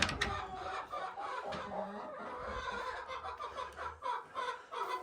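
Barred Rock hens in a farm coop giving soft, irregular clucks and low murmurs close by, alongside rustling and scattered background bird noise, with no talk over them.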